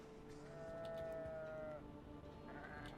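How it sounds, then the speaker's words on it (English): A wild sheep on a beach in Argonus and the Gods of Stone gives a single drawn-out, low bleat lasting over a second, heard faintly over quiet ambient background. "This wild sheep appears interested in nothing more than the grasses that grow upon this beach"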